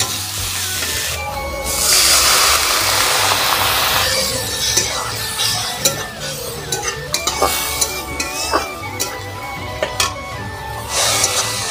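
Spice masala with chilli powder, salt and a splash of water sizzles and hisses in a pan, with repeated scraping and clinking strokes of a spoon stirring it close by.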